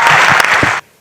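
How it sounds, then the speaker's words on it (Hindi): A brief burst of audience applause at a Hindi poetry recital, dense crowd clapping at full loudness that cuts off abruptly near the end. "मुझे बैठ के पढ़ने के लिए एक ताली बजा दीजिए एक बार"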